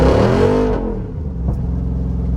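A tuned Jeep Rubicon 392 V8 in two-wheel drive is pushed hard: the engine howls up through rising revs, cuts back sharply, then settles into a deep, rumbling drone, loud and close throughout.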